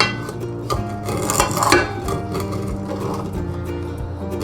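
A spoon stirring homemade playdough mixture in a bowl, with repeated close scraping and clinking strokes in an uneven rhythm.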